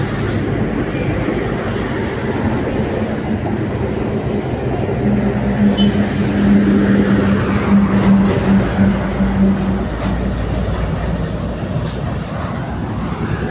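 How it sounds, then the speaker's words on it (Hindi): Vehicle driving fast on the Solan bypass on NH 5, a steady roadside rumble that swells as it passes, with a tonal hum in the middle and a voice talking over it. "और एक और वाहन है थोड़ी तेज़ गति में है"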